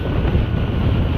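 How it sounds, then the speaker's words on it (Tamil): Strong wind roars across the microphone of a Honda Dio scooter on the road to Kotagiri in cold, rainy weather, a dense, loud, unbroken buffeting over about a second with no voice. "காற்று வேறு இதுக்கும் வேறு அடிச்சிட்டு இருக்குது பயங்கரமாக"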